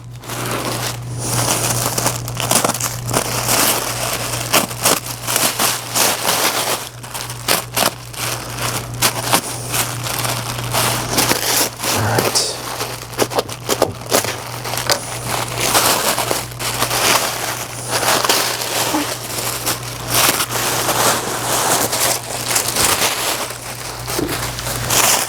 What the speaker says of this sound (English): A lot of times when you unwrap these things, you want to unwrap them the same way that they wrapped them.